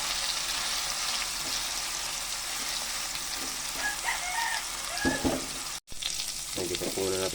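Ham frying in a pan as the first step of a sopas, a steady broadband sizzle close up, with a rooster crowing faintly in the background near the end.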